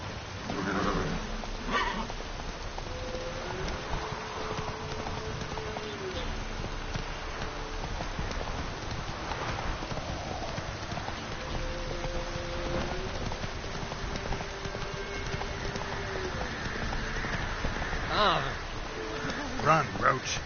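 The horse Roach gallops in the Witcher 3 video game, a steady clip-clop of hooves running continuously under game sounds, with a voice speaking over it.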